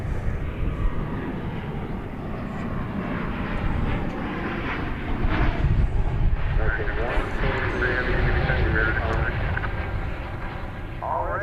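An airliner operating the Honolulu flight at DFW Airport roars steadily with loud, sustained jet engine noise, swelling slightly midway, with a voice talking over it.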